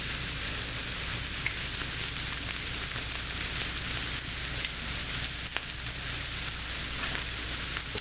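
A steady, even sizzle of flour frying in a pan for homemade chicken enchilada sauce, close and constant, with no talk.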